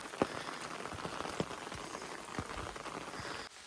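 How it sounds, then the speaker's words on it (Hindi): Heavy rain pattering steadily on surfaces along a mountain trail hiking to the Tiger's Nest monastery in Bhutan, close and continuous with occasional louder drops. "तो दोस्तों बारिश काफ़ी तेज़ शुरू हो चुकी है।"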